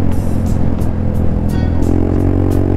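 An Italjet Dragster 200 scooter with heavy modifications riding over a bumpy road, loud continuous engine drone with wind buffeting and intermittent rattling jolts, the engine pitch rising toward the end.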